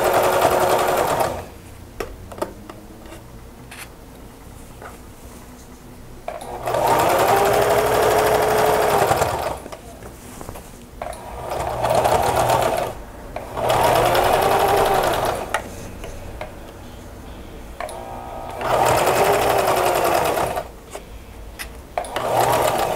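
A sewing machine stitches fabric in several bursts of steady mechanical whirring, stopping and starting between runs, loud and close with quieter handling noise in the pauses.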